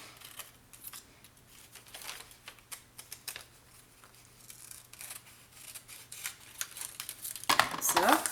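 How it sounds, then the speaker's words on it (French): Scissors make soft snips while cutting paper along a cut line for a mini album craft project. The quiet, irregular cuts are followed by a louder rustle and crinkle of paper at the end. "Finir au ciseau sur ma ligne de coupe."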